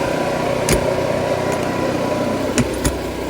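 A 4,000 watt generator on a 2018 Winnebago Sunstar 27PE RV drones steadily at close range, a constant mechanical hum broken by a few sharp clicks.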